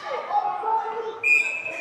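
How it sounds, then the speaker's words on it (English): A referee's whistle blows during a U13 AAA youth ice hockey game at a recreation centre rink, a short shrill blast rising over crowd noise and ongoing play-by-play commentary. "And it is whistled down again."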